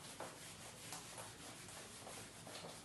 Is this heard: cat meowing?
no